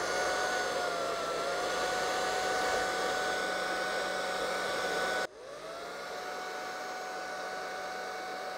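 A hair dryer blows on paint for a Dutch pour, a loud steady whir that holds for several seconds, then dips sharply and settles into a slightly lower, quieter hum.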